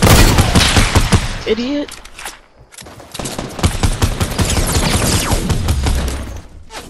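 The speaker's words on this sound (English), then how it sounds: "We're getting shot at." Gunfire in a Fortnite battle royale squads match: loud, rapid volleys of shots in dense bursts with a brief lull in the middle, and a voice speaking over them.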